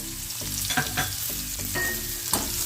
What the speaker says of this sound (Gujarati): હવે તેમાં ટીંડોરા નાખી દઈશું અને ગાજર પણ